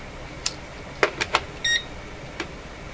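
An electronic meter on a DIY vacuum tube testing bench beeps: a few short sharp chirps and one brief higher tone stand out over steady background hum, with no talking.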